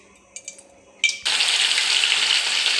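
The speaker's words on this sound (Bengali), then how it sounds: "হালকা করে ভেজে নেবো, বেশি ভাজবো না, লালও করব না, সামান্য একটু তেলে নাড়িয়ে নেব।" Paneer pieces hit oil and ghee in a pan and set off a loud, steady frying hiss that runs without a break after a few light clinks.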